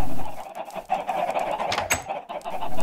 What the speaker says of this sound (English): There's a chicken out of the pen.